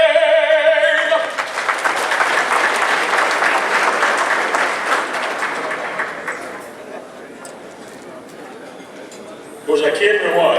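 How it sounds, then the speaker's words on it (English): Loud applause from a luncheon audience fills the room, a dense wash of clapping that swells, then slowly thins and fades out before a voice starts speaking near the end. "Let's give him another round of applause."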